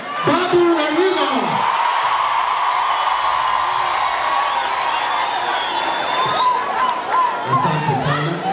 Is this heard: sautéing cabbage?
no